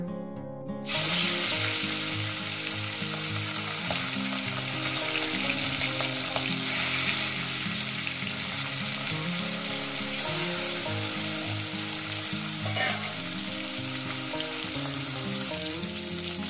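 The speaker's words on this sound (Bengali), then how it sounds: "তেলটা গরম হয়ে গেছে, মাছটা আমি দিয়ে দেবো।" Mrigal fish frying in hot oil, a dense, steady sizzle that surges loudly once the fish goes in and carries on close and even for the rest, with a brief scrape partway through.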